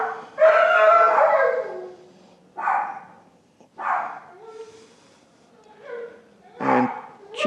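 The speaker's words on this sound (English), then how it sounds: "And Chico is a Chihuahua and Pug mix" A black-coated Chihuahua and Pug mix dog howls and yips in several separate close bursts, each rising and trailing off, with short pauses between them.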